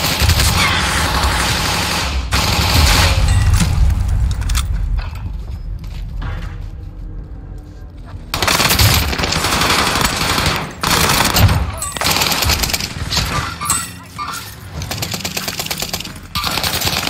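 Dense video game gunfire, bursts of rapid shots and heavy fusillades, loud and close with mechanical clatter, pausing briefly midway before erupting again in sustained volleys.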